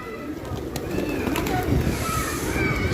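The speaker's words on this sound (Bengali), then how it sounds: "আমার চারপাশে এই যে কবুতর কিভাবে মানে ঘুরতেছে" Pigeons coo around a person standing in a palace courtyard in Nepal's Durbar area, their soft, continuous murmuring blending into a steady outdoor hum with faint background voices.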